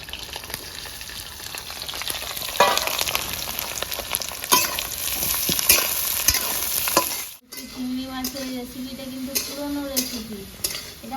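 Garlic, green chili and chopped onion hiss and crackle loudly in a hot pan with occasional stirring scrapes, then the sizzle cuts out abruptly and a person starts speaking.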